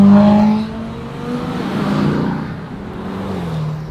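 A Ferrari 488 Pista accelerates at full throttle, a loud close engine roar from inside the car that surges and climbs through the gears.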